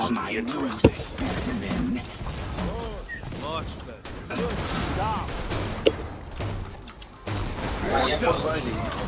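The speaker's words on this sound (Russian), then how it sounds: "Так, салютик запускает." Repeated booming bursts and crackling pops of fireworks in Killing Floor 2, sharp bangs cutting through busy game sound effects, with someone talking over them.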